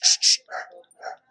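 Two sharp barks from a Dalmatian open the moment, followed by softer lower yips or whines, close and brief with silence after.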